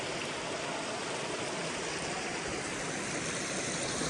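Prong Creek running full after heavy rain, a steady broadband rush of flowing water over slippery moss-covered rocks, close and constant with no break.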